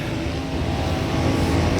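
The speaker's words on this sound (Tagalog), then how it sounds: "hindi kasi natin marinig maingay mga kalingap, ang daming sasakyan." Dense, steady roar of heavy street traffic in Manila, a loud wash of many engines with no break.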